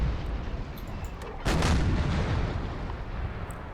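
Sailing-ship cannons fire in Empire: Total War, a heavy booming broadside bursting out over a rumbling battle background, then a rolling decay.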